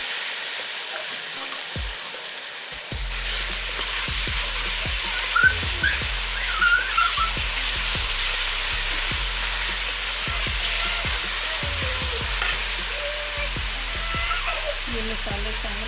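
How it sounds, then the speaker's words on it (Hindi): Tomato paste sizzles and fries in a pan for a lentil-spinach curry, with a steady hiss broken by repeated clinks and scrapes of a spoon stirring against the pan, close up. "ये टमाटर का पेस्ट शामिल करें।"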